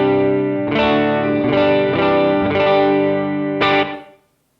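Electric guitar through a simulated Fender Twin Reverb amp, a series of driven strummed chords struck about every second, full and saturated, ending on one last chord that fades out, heard close and alone.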